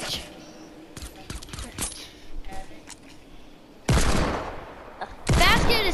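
Bursts of gunfire in the video game Fortnite, with scattered shots early on and two loud sustained volleys near the end, mixed with faint game noises and some background chatter.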